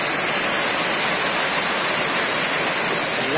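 A waterfall pours in a dense, loud, unbroken hiss of falling water, close and constant with no voices.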